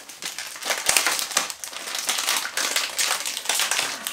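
Plastic and paper packaging from a July Candysan subscription box being pulled open where a piece is stuck on, close crinkling and crackling in uneven bursts, no voices.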